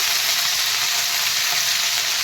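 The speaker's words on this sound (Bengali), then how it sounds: "গরম হয়ে গেছে আমি এই ফুলকপিগুলো ভেজে নেব" Cauliflower pieces fry in hot oil, giving a loud, dense, unbroken sizzle close up for a couple of seconds with no talking.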